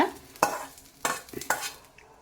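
Cluster bean stir-fry stirred in a pan, three or four quick scraping strokes with a light sizzle between them, close and fairly quiet.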